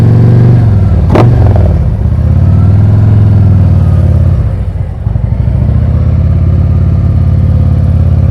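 Motorcycle pulling away in first gear during slow-speed riding practice: a steady, close engine drone with a brief sharp clatter early on, then a low rumbling pull-off that dips and recovers without any talk.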